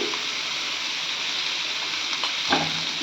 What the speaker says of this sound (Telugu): నేను దీన్ని 5 మినిట్స్ వరకు ఆనియన్స్ని ఫ్రై చేస్తున్నాను.